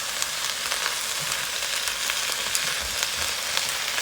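Shredded cabbage and carrots cook down in a hot pan for Chinese takeout-style egg rolls, giving a steady, fairly loud sizzle with occasional crackles and stirring scrapes.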